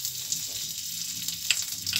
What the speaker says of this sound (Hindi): घी को गर्म होने देंगे